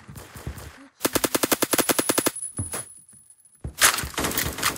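Rapid automatic gunfire in the Roblox shooter Phantom Forces during a team deathmatch, a steady burst of about a dozen loud shots, with scattered game sounds before and after.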